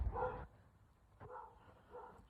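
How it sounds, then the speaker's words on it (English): Dogs barking somewhere behind a house during an outdoor walk, three short, muffled barks spaced about a second apart, fairly distant and faint. "these dogs back here, that's the only reason I can feel like they're barking"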